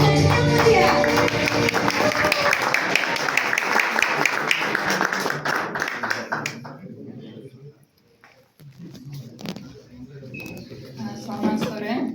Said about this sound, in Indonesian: Mari berikan tepuk tangan yang meriah